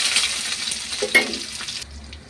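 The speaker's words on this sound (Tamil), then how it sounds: "இப்போ வந்து கடாயில் எண்ணெய் ஊற்றிட்டோம். கடுகு போட்டுக்கலாம்." Mustard seeds and onion frying in hot oil in a kadai give off a close, crackling sizzle with light stirring and utensil clatter, which cuts off abruptly near the end.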